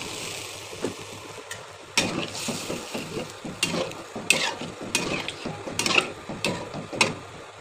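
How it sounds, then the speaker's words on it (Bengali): Water goes into a pan of frying spices and new potatoes for alur dom, setting off a crackling sizzle with repeated clicking scrapes and clatters, close and fairly loud, with no voices. "এখন জল দিয়ে দেবো।"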